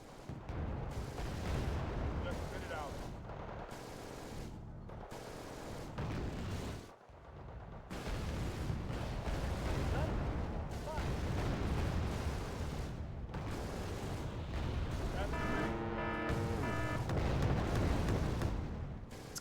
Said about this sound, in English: look at the mortars go